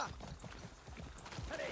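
Soft, rhythmic clip-clop of horse hooves trotting at a steady pace in the video game Far Cry 6, faint and slightly muffled, with a light background hum and no speech.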